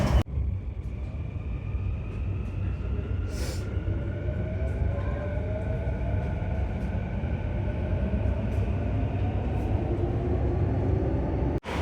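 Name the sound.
Delhi metro train at New Delhi station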